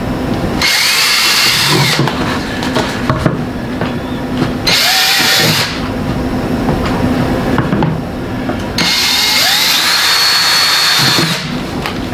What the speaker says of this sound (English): we're going to drill our holes for our nipples